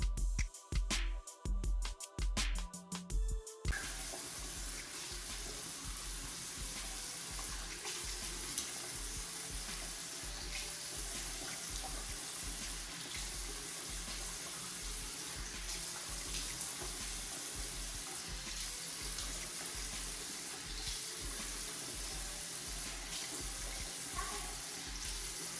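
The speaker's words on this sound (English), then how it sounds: "giving your bird a shower or a bath" Running water from a tap fills a sink or basin for a pet bird's shower or bath, a steady close splashing rush that continues after a few short bursts at the start.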